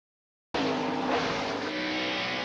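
NASCAR Winston Cup race cars roar past at a grand old racetrack during a Labor Day weekend race, a sudden loud burst of engines and tire noise that stays heavy and continuous.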